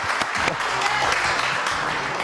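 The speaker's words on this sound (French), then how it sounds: "Allez, Dove Atia, applaudissements." Brief burst of audience applause on a TV news show, dense clapping heard close and fairly loud for a couple of seconds.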